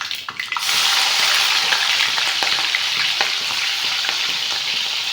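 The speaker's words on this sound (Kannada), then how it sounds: "ಇವಾಗ ಸಾಸಿವೆ ಹಾಕೊತಾ ಇದ್ದೀನಿ ಒಂದು ಸ್ಪೂನಷ್ಟು ನೋಡಿ ನೋಡಿ ಇವಾಗ ಮೆಣಸಿನ್ಕಾಯಿ ಹಾಕ್ಕೊತಾ ಇದ್ದೀನಿ" Mustard seeds and green chillies dropped into hot oil for a ladies finger dry curry set off a loud, steady sizzle with faint crackles and pops, quiet for a moment before the frying swells up and holds.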